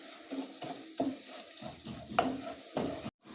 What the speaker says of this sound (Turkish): tekrardan şöyle kavurmaya devam edelim bir miktar